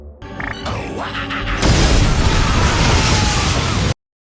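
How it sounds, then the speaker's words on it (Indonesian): A bomb hidden inside a rat explodes in a film, a short run of mechanical clicks and whirs giving way to a loud, sustained roaring blast that cuts off abruptly into silence. "Diam-diam dia melepaskan seekor tikus yang ternyata di dalamnya telah ditanam bom"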